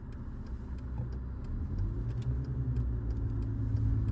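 A 1999 Mercedes E300 turbodiesel (OM606, W210) drives on the road, with a steady low engine hum and road rumble from inside the car, rising slightly toward the end, plus faint clicks and rattles.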